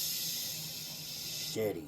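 A spray bottle misting water onto a handmade model bush for a slot car track, a steady broad hiss running throughout, then a short louder burst with a faint tonal squeak near the end.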